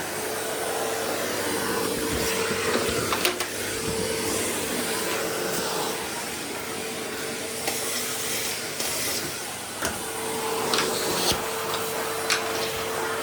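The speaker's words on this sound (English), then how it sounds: "I'm going to be vacuuming now for 10 minutes" A household vacuum cleaner runs steadily throughout, a close, continuous whine with a constant tone and faint bumps and clicks as it is pushed around, with no talking.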